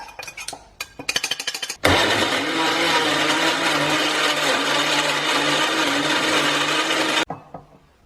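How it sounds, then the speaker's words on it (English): A blender roars loudly and steadily for several seconds blending tomato, cashew nut and chili paste, preceded by a few short clinks and rattles, then cuts off abruptly. "Here we've got our beautiful tomato, cashew nut and chili paste, all blended up"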